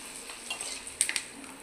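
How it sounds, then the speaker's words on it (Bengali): Sago papad frying in hot oil, a soft continuous sizzle with a few sharp crackles and pops near the end, close and fairly quiet. "এটা একটা সাবুর পাঁপড় ভাজছি"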